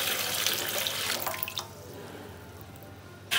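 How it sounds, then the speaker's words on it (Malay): Water poured from a container into a pan of sugar for coconut candy, a steady splashing pour for about a second and a half, then a quieter trickle that ends in silence. "Masukkan 2 cawan air."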